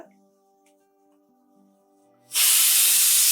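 Cumin seeds dropped into hot oil for okra sambar burst into a loud, steady sizzle after a quiet stretch of faint kitchen hum, the hiss continuing strongly to the end.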